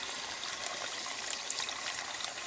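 Broth is poured over rice in a cooking pot, giving a faint, steady trickling and splashing of liquid with small bright drips, close by and with no voices.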